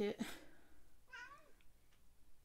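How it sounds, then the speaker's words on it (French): A kitten gives a short high meow up close, then a second rising, wavering mew a moment later, faint indoor room tone around it and no talking. "vous avez un petit concert de bébé chat"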